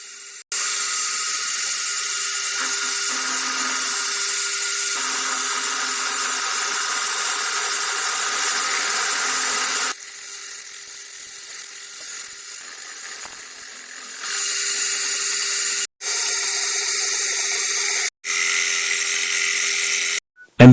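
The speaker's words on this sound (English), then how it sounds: "It is then drilled through." A drill bores through a metal part for a centring microscope build, giving a loud, steady high whine that stops briefly and then restarts, with a softer grinding stretch in the middle.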